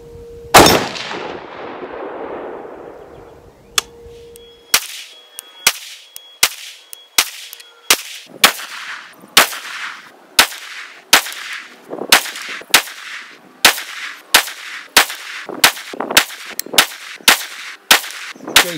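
Rifle shots from a .30-06 AR firing Winchester ammunition: one opening blast with a long echoing tail, then a rapid, evenly spaced series of loud, sharp cracks repeating steadily, close by and with no talking.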